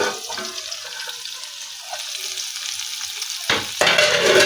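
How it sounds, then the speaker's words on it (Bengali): Potatoes frying in white oil and mustard oil in a pan on the stove, a steady sizzle with stirring scrapes, and a louder burst of crackling toward the end. "আলুগুলো ভাজা হয়ে গেছে"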